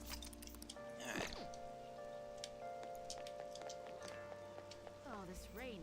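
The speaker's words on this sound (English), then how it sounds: "this rain is so annoying" Steady rain patters in Persona 5 Royal, a soft continuous hiss beneath game music and occasional chirpy sound effects, fairly faint throughout.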